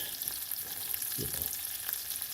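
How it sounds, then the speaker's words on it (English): Guanciale frying in a pan to render its fat, a steady close sizzle with a brief stirring scrape partway through, no voices. "I want it to release its fat here, because that's really what I want to fry this pasta in, is this guanciale fat."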